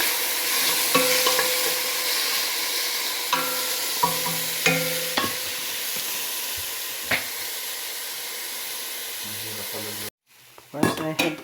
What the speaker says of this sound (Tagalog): Then we have to fry this. Sautéing with the onions, garlic, and